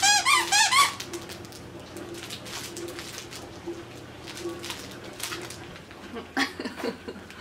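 Squeaky dog toy, a Grinch-themed present plush with a dish squeaker, bungee and crinkle: a quick burst of high squeaks at the start, soft crinkling and rustling after, then a few more squeaks near the end.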